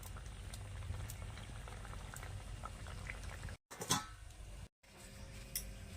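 Fish curry of koi fish simmers in a pot, a close, steady bubbling with a brief splash as raw oil is poured in, then the bubbling resumes.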